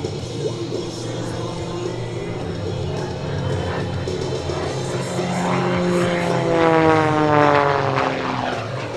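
An MXS aerobatic propeller plane flying a tight inside loop at an air show, its engine drone steady and loud, then rising and shifting in pitch as it swings through the loop.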